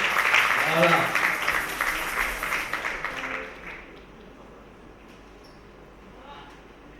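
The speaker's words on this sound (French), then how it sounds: "si vous pouvez applaudir ces messieurs" Audience clapping at a reserve army anniversary gathering, a steady round of applause under a speaker's voice that tapers off after about three seconds into quiet room sound.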